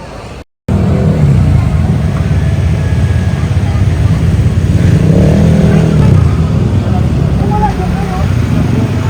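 Motorcycles and tricycles idle and rumble in a queue for blessing outside Manaoag Church, a loud continuous engine drone close by, with voices talking over it.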